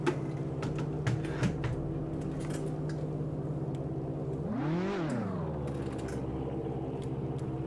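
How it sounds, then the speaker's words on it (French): A racing car engine in Assetto Corsa at Monza hums quietly at a steady idle-like pitch, then revs up and falls back once midway before settling again, faint and mechanical with occasional clicks. "Dites-moi si le moteur sature ou si vous m'entendez toujours correctement malgré le bruit du moteur."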